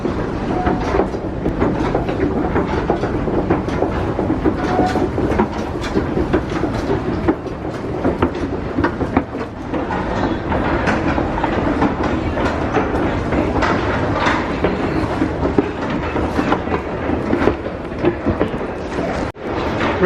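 Old wooden escalator at Macy's Herald Square running continuously, a dense rumbling clatter with rapid rhythmic clacks from worn machinery, loud and close throughout.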